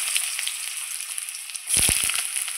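Cut potato pieces hit hot oil already spluttering with cumin seeds, a steady bright sizzle that surges louder as the potatoes go in, with a few close stirring clatters.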